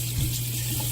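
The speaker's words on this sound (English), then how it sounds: "Wash your hands." Tap water running steadily into a sink for hand washing, a close, constant rushing stream that fills the brief moment without any voices.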